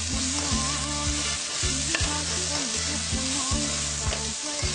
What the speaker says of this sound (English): go ahead and add your vegetable. And you want to fry them for 1 minute.